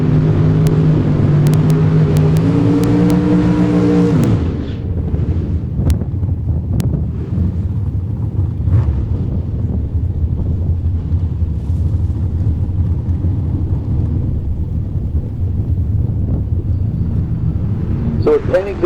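Drag racing roadster engine at a dragstrip launching hard, with strong harmonic engine tones that fade quickly after a few seconds, leaving a low broadband rumble and wind noise; an announcer talks over it.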